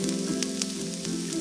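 Small-chopped onions, three medium ones, frying in hot oil with cumin seeds: a loud, close, continuous sizzle with a crackly, bubbling texture.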